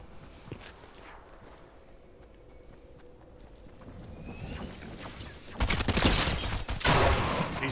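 Rapid gunfire from the video game Fortnite erupts in loud, dense bursts over the last two seconds, following a quieter stretch of in-game ambience with faint scattered clatter and footsteps.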